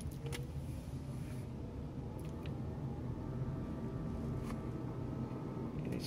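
Steady, soft hum inside a 2013 Nissan Leaf SL electric car while it drives, with low road and tyre rumble throughout and only a few faint clicks over six seconds.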